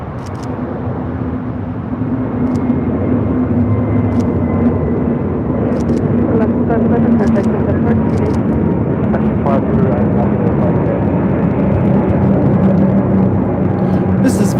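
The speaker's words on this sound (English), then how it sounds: "This is Viva Aerobus flight 511 taking off to Guadalajara." A Viva Aerobus airliner bound for Guadalajara takes off from runway 25 right at LAX, its engine rumble building and then sustaining as a loud, continuous roar, with brief sharp ticks scattered across the sound.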